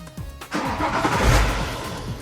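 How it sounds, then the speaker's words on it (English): A family car's engine starts up and revs as it is reversed, with a low rumble rising to a steady, fairly loud drone that holds through to the end. "Now Dad's just reversing the car and we're on our way."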